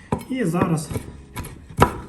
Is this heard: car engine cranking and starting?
no